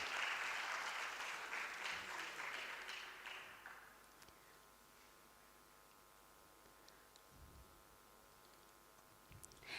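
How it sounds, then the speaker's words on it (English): Applause at a campus-to-corporate industry interaction session, a brief burst of clapping that is loud at first and fades out after about four seconds, followed by a quiet room with faint scattered clicks. "Please give a huge round of applause."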